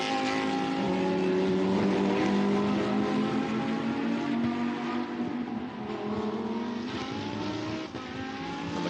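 Lamborghini Super Trofeo race cars running nose to tail at Portimao, engines roaring loud and close with rising and falling pitch as they pass, alone without talk.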